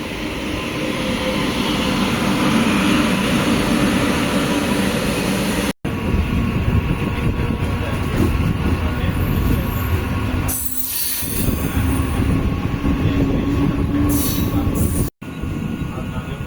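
A Chennai–Bangalore MEMU passenger train runs along, heard from on board: a loud, continuous rumble of wheels on rails with squealing, two brief dropouts, and a passing rush partway through.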